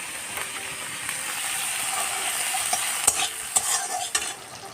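Vegetables lightly frying in a pan, with a steady hiss of sizzling oil and a few faint clicks and scrapes of a utensil toward the end, close and moderately loud.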